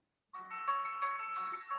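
A phone rings with a melodic ringtone for an incoming call during an obstetrics conference session, a clear tonal tune that starts abruptly and plays on alone, brightening toward the end.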